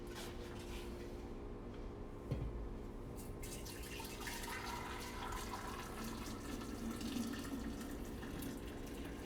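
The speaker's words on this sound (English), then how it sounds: "I'm gonna dump this out in the sink real quick" Water poured out into a sink from a container while dyeing skates, a continuous gushing splash at close range with a brief clunk partway through.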